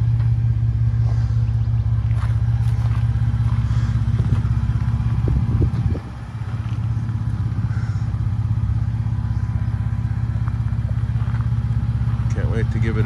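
A 1966 Ford F100 pickup with a Raptor 10R80 transmission swap drives on its first test run, a steady low engine rumble with a brief dip midway, heard from inside the cab without talk.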